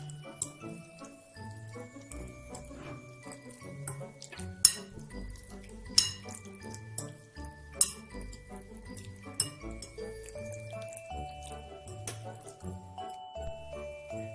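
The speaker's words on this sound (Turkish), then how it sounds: "karıştırmaya başlıyoruz" Utensils stir ingredients in a bowl while cooking, giving repeated light clinks and taps of metal on dishware, steady and close, with a few sharper knocks standing out over a low background hum.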